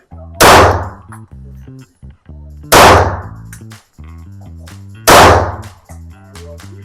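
A Springfield Prodigy pistol fires Blazer 115 rounds at a shooting range. Three loud, sharp shots come about two and a half seconds apart, each cracking hard and then decaying, over a steady tonal musical background.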